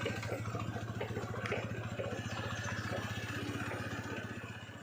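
Motorcycle engine running on a road through a cashew orchard, a steady close idling throb with light mechanical clatter holding level throughout, fading slightly at the end.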